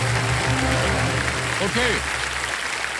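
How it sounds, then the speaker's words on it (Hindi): Studio audience on the KBC quiz show applauds new contestants, a dense, steady wash of clapping with a musical tone underneath and a brief voice over it. "जोरदार तालियां इनके लिए।"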